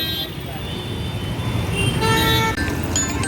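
A travel bus arriving on a village road, with the broad rumble of traffic and engines, a horn toot and a rising roar as it draws near, while people talk over it.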